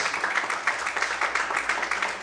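A church congregation applauding during a Portuguese-language evening service, with steady, dense clapping from many hands at moderate loudness all the way through, and no voices standing out above it.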